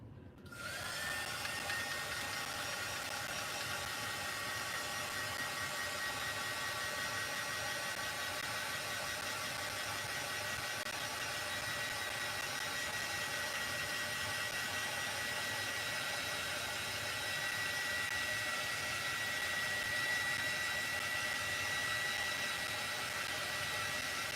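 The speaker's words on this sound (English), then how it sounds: "I'm going to use my handy dandy heat gun from Miss Starla." A handheld heat gun is switched on and then blows a steady, even whoosh with a faint whine for more than twenty seconds while decorating a tumbler. No one talks over it.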